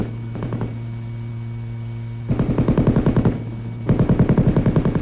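An M60 machine gun, a gas-operated, air-cooled, belt-fed automatic weapon, fires two rapid bursts of sharp, evenly spaced shots. The bursts are loud and close, with a steady low hum underneath.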